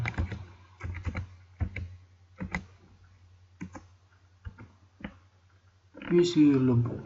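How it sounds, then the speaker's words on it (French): Tab key pressed on a computer keyboard while filling in address fields, heard as sparse, separate clicks and taps against a steady low hum, with a short burst of other noise at the end. "Puis on appuie sur le bouton table pour passer au champ suivant."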